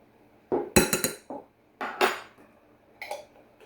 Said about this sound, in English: So we're going to stir this up